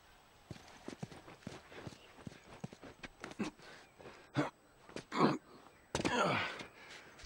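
Steady horse hooves clip-clop in The Last of Us video game, an uneven run of close thuds that grows louder toward the end as the horse moves near, with no talking.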